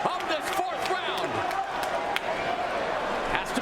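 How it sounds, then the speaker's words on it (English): A mixed martial arts arena crowd chants the name of fighter Diaz during the fourth round, a distant rhythmic roar of many voices under close commentary from the broadcast booth. "Again, the chant of Diaz."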